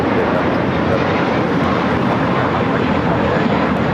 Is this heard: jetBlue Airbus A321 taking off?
yes